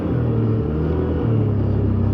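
A 2007 Can-Am Outlander Max XT 400 ATV engine runs steadily while riding on trails, a low, even rumble with a slight rise in pitch partway through, quiet and continuous, with no talk.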